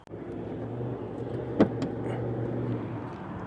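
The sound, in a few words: Bricklin SV-1 gullwing car engine starting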